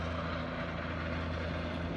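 A firefighting helicopter with a water bucket on a line drones steadily at a distance, a faint, continuous engine and rotor hum with no talk.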